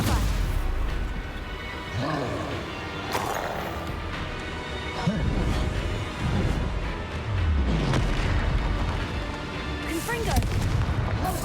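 Spell blasts and booming explosions in the wizarding video game Hogwarts Legacy. Repeated heavy bursts and rumbling impacts mix with shouted incantations and other voices in a chaotic fight.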